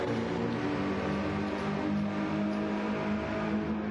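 Gran Turismo race cars, including a Porsche, a Renault and an AMG, roar continuously during a race, a dense blend of engine drones and shifting revs that stays loud and steady for the whole stretch without any talking.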